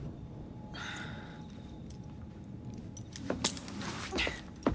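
Keys jangle briefly as they are handed over in the video game Assassin's Creed, a few light metallic clinks standing out near the end above a low, steady room ambience.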